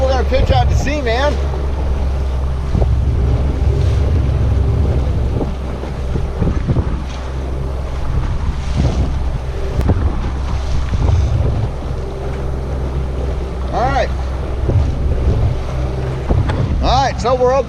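A fishing boat trolling at sea with a Penn Battle 5000 reel rigged, its engine droning low and steady throughout while wind buffets the microphone and waves wash past.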